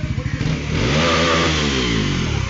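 Bajaj Pulsar NS motorcycle engines rev loudly and climb in pitch, several bikes roaring close by at once on an Independence Day group ride from Guwahati, with a voice faintly mixed in.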